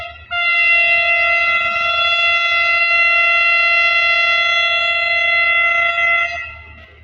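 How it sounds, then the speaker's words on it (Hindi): A steady, loud multi-tone whistle blows from an HGMU-30 EMD diesel locomotive hauling the 152 Down Shah Latif Express, held for about six seconds before cutting off, with a low engine rumble underneath. "फ्रेंड हमारी ट्रेन ने विसल दे दिया है 152 डाउन शाह लतीफ़ एक्सप्रेस में।"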